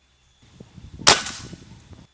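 A single sharp shot from a 500 cc PCP air rifle cracks out midway, loud and close, preceded and followed by quiet handling noise.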